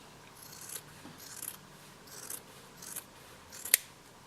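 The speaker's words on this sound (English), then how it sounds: "So we'll just firstly die cut our rabbits." Die cutting rabbit shapes for an Easter decoration makes a series of four or five soft, close crunching cuts at a steady pace, finishing with a sharper snap, with no talking.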